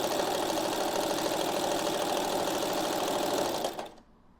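A sewing machine stitching a seam on a simple pillowcase, running fast and steady with a rapid mechanical chatter close by, then slowing and stopping near the end.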